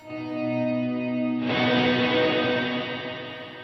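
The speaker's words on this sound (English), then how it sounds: "This is reverb only." Sustained electric guitar chord through a reverb pedal swells into a wash of lush, echoing reverb that blooms midway and slowly tails off.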